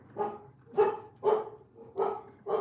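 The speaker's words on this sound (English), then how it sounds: "The fact that my dogs are barking is an omen" Dogs bark repeatedly indoors, five evenly spaced barks at moderate loudness and fairly close, with no talking.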